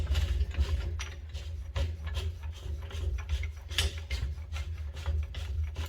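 A spanner winds down the preload ring on the spring of an RCOR RMAX 2 and 4 shock, making a quick run of close, fairly quiet ratcheting clicks and scrapes, alone with no voices.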